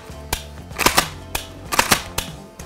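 A Blaser R8 straight-pull bolt-action rifle gives a quick series of sharp, close metallic clicks and snaps in short clusters, with no talking.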